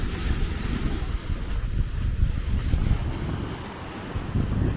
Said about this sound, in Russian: Извиняюсь за шум моря